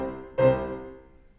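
A single piano octave struck with equal force on both notes, one clear attack that rings and fades over about a second, close and with no talking.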